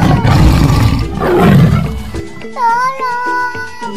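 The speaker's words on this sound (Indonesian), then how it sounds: "Tolong, ada harimau" A tiger roars loudly and close up in a long, rough growl, then gives way to a bright electronic jingle with high tones.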